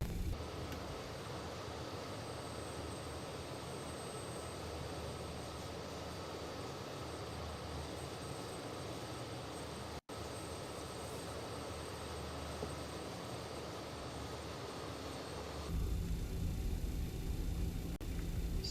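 BAe 146 airliner engines in MSFS 2020 drone steadily during a climb, a loud, even jet roar with a faint whine that shifts to a different tone near the end.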